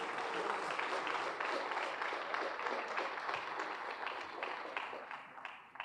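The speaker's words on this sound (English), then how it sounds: "How about a round of applause for Captain Brian Medina?" Audience applause for a fire captain at a firefighters' awards banquet, a steady, fairly distant round of many hands clapping that holds for several seconds and slowly thins out.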